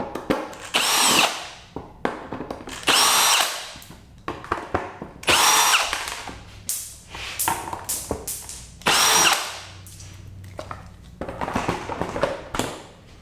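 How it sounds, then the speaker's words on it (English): A power driver fitted with a T20 Torx bit backing screws out of a Ducati Multistrada V4S windscreen, heard as several short whirring bursts separated by pauses, close and fairly loud. "get a T20 Torx bit and remove your windscreen"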